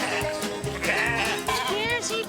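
Sheep bleating on a farm in St. Croix, several overlapping wavering calls close by, with people talking and calling to the animals over them.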